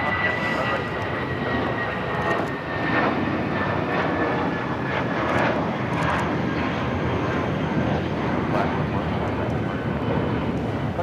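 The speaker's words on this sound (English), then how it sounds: "This is Viva Flight 511 taking off to Guadalajara on the A320 Tigres." Viva Airbus A320 taking off at LAX, bound for Guadalajara: a steady, loud broadband jet engine roar holds throughout, with a faint whine above it.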